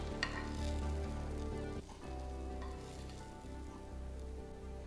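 Scallops sizzle in nut-brown butter in a hot pan, a steady, dense, fairly quiet frying hiss that runs unbroken throughout, with a slight dip midway and no voices.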